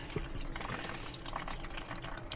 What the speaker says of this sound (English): Okay, so I'm adding the water in.